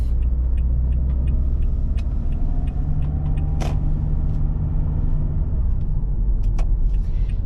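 A car rolls to a full stop at a T-intersection and then turns right, a steady low engine and road rumble filling the whole stretch close to the microphone, with faint ticking and a brief higher whoosh partway through.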